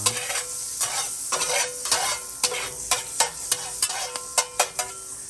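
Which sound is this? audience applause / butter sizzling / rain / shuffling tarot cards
butter sizzling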